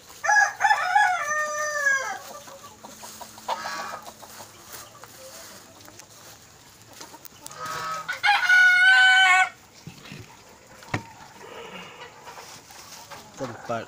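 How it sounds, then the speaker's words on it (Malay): Several roosters of village chickens and jungle fowl crow in turn, loud and near, with clucking and other bird calls between, at a chicken coop, and a person talks briefly in the background. "Tempat ayam kampung dan ayam hutan."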